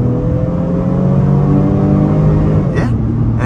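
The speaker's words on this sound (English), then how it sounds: "Try third gear pull on the gas." A 2023 Honda Pilot Touring's V6 pulls hard in third gear on a test drive, a loud, sustained engine drone that climbs steadily before the tone shifts abruptly near the end.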